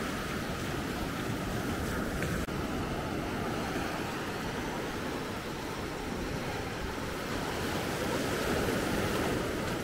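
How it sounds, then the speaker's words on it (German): Ocean surf at Maspalomas, Gran Canaria rolls in as a continuous loud wash of breaking waves, broadband and steady, with wind mixed in and no talk. "Ja, die Wellen heute."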